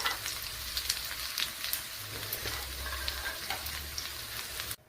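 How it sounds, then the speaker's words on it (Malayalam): Quail egg curry simmering in hot oil in a pan gives a steady, soft sizzling and bubbling hiss with faint crackles, heard close and alone without talk. "നമ്മുടെ കറിയൊക്കെ ഇവിടെ തിളച്ച് ഓയിലൊക്കെ തെളിഞ്ഞ് വന്നിട്ടുണ്ട്"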